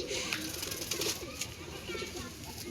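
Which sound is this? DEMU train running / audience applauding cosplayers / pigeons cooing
pigeons cooing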